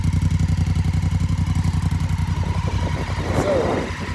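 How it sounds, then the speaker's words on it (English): A motorcycle with its stock exhaust idles close by, a steady, even, rapid thumping pulse, with a brief blip of throttle near the end. "here's an exhaust note as well. Of course, has the stock exhaust on there"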